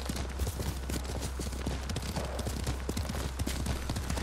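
Horses gallop in a race in the video game Ghost of Tsushima, a dense, steady clatter of hooves running alongside a low constant rumble, with no pauses or voices.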